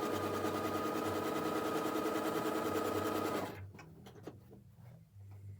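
A sewing machine runs edge stitching in a fast, even mechanical whir for about three and a half seconds, then stops, leaving faint clicks and handling sounds.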